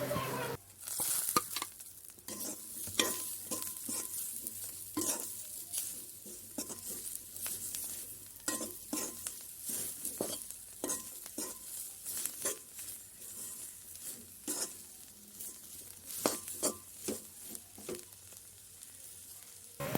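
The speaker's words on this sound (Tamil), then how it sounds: "இப்போ அதோட சேர்த்து கொத்தவரங்காயும் போட்டு நல்லா பிரட்டி எடுத்து போடுவோம்" Cluster beans being stir-fried in a pan give a soft, continuous sizzle under repeated stirring and scraping, with small clinks and taps spread through the stretch and no talking.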